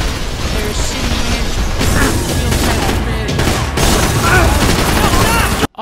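Dense, continuous gunfire and bursts from the Max Payne 3 shooter game, loud throughout with booms and blasts layered over one another, cutting off abruptly at the very end.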